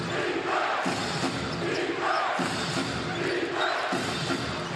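Crowd noise in a basketball arena during a Taoyuan Pauian Pilots versus Hsinchu Toplus Lioneers PLG game, a steady roar of fans swelling in waves with rhythmic chanting, ball bounces and a commentator's voice running over it.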